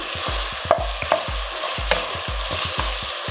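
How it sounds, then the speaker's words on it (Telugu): Brinjal pieces stirred into spiced rice in a hot pan over medium heat, with loud, regular scraping strokes of a spatula over a continuous sizzle and occasional sharper metal taps. "ఇప్పుడు మనం వంకాయలన్నీ అన్ని దానిలను కలుపుకోవాలి"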